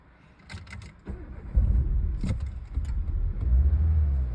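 A car engine that had been failing to start cranks and catches, rising from a short burst of starter clatter into a low, steady idle rumble close by.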